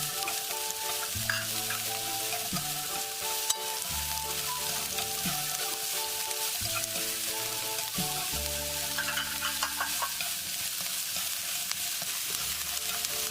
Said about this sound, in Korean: 팬에 식용유 약간을 두르고 양파를 넣어 볶다가 양파 향이 올라오면 청홍고추 대파를 순차적으로 볶아주되 야채가 푹 익지 않도록 짧게